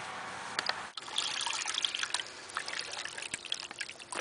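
Water flows down a pipe in a small river model, trickling and dripping in a light, uneven patter with a few sharper splashes, close and fairly quiet.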